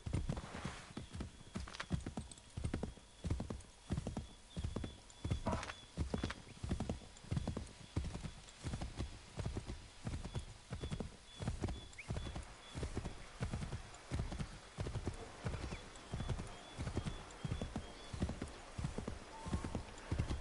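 Horse hooves beat in a steady, rapid clip-clop rhythm as a mount gallops in the video game Assassin's Creed 3, close and continuous, with a brief neigh early on and faint game ambience beneath.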